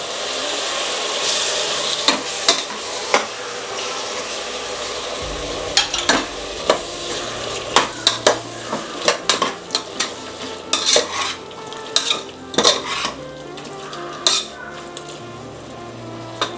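Ginger and garlic sautéing in a pan for a country-style chicken curry: a loud, steady sizzle with repeated spatula scrapes and knocks against the pan and no voices.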